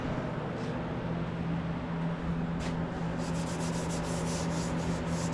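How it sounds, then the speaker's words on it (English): Steady, close scraping rasp of sandpaper worked over Bondo body filler on an MGB, continuous and even throughout without pauses. "Sand it out really nice."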